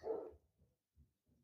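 A dog gives one fairly close bark, followed by a few faint, low, muffled yips or huffs spaced out in otherwise quiet surroundings.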